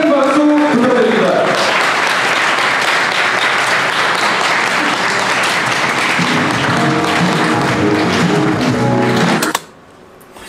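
Wedding guests applauding as the bride and groom begin their recessional march, a loud, sustained crowd of clapping hands with voices mixed in, cutting off abruptly near the end.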